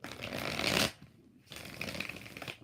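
Tarot cards being shuffled, two bursts of dense riffling separated by a brief near-silent pause, close and fairly quiet with no talk over them.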